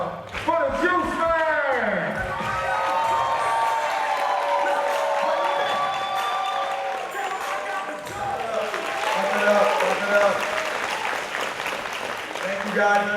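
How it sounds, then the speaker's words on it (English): A crowd applauds and cheers as a comedian is introduced, loud steady clapping with whoops swelling then easing, while voices talk over it. "Y'all put your hands together and give a warm round of"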